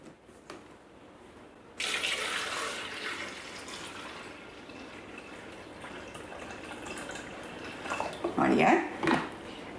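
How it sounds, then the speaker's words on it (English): Tap water runs into a Thermomix bowl, starting abruptly and pouring steadily at close range, rising to a louder splash near the end as the bowl fills; a few clinks of kitchenware, and voices talk softly in the background. "So we're going to put water into the bowl up to that mark."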